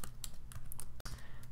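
Quick bursts of keystrokes on a computer keyboard while coding a Python assembly program, irregular clicks close to the mic over a low steady hum, with one brief pause midway.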